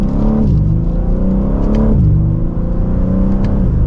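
2024 BMW M3 Competition xDrive pulling hard through the gears, loud engine rising in pitch, dropping sharply at each of two upshifts, then climbing again, with no talking.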